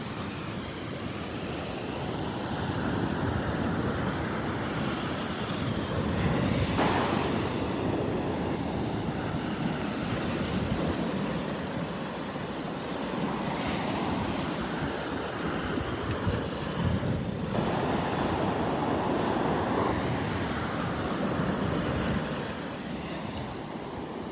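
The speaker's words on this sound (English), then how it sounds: "The Gulf Coast isn't known for its waves in Southwest Florida." Surf rolls steadily onto Vanderbilt Beach on Florida's southwest Gulf Coast, a continuous wash of breaking waves with gusts of wind buffeting the microphone and a few louder surges along the way.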